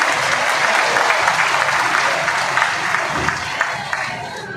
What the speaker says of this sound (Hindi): जोरदार ताली बजा करके इनका स्वागत करें।